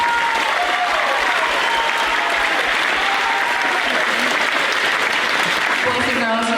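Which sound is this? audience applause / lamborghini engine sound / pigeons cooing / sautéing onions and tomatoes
audience applause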